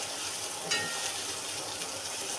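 Eggplant curry with curry leaves fries in oil in a pan, a steady close sizzling hiss with a brief sharper crackle near the start.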